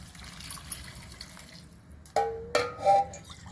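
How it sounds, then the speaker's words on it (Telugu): Warm water splashes into a pot for methi pulao, starting after a quiet, hissy stretch with a sudden gush, then a second pour and bubbling gurgles near the end. "నీళ్ళు వేడి చేసుకొని పోయాలి గోరువెచ్చగా."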